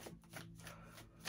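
Soft riffling tarot card shuffles, a few quick brushy bursts close by, ending in a sharper snap of cards.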